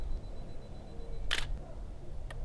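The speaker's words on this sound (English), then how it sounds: "you'll hear the shutter" A single sharp camera shutter click, with a fainter second click a moment later, over a low, quiet background hum.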